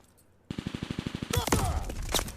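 Rapid automatic gunfire from Call of Duty Vanguard in search and destroy mode, a fast regular burst followed by louder crackling shots and explosions, close and dense.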